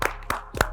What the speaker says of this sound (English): Let's clap it up, let's clap it up.